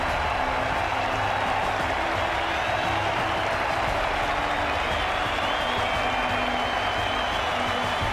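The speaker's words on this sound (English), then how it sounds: "Listen to the crowd." A cricket crowd at Adelaide roars and applauds Australia's Ashes-winning victory on day five, a dense, sustained wall of cheering and clapping that fills the whole stretch without letting up.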